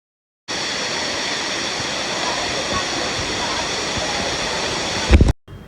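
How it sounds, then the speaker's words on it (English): Kantolampo waterfall in Bali cascading over rocks, a steady loud roar of rushing water that starts abruptly and holds constant, with a brief burst of handling noise near the end. "So this is the Kantolampo waterfall"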